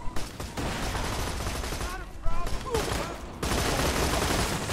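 Gunfire from the Borderlands 2 video game rattles in dense rapid bursts, loud and continuous, with a brief drop-off midway before the shooting resumes; voices talk over it.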